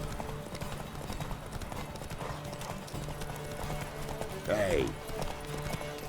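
Horse hooves clip-clop in a steady galloping rhythm in The Witcher 3, close and continuous under game music, a brief whinny rising near the end, with a short spoken word over it.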